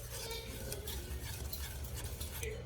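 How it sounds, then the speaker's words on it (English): A spoon stirs homemade caramel over a low flame in a pan, soft scraping and faint clinks under a quiet background hum. "And then I'm gonna stir."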